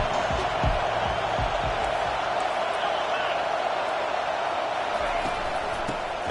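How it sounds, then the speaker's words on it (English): A stadium crowd at an American football game roars in a dense, sustained wall of noise as fans try to help their defense, with scattered thumps beneath and commentators talking over it. "Listen to this crowd just shaking the girders of this place trying to help their defense."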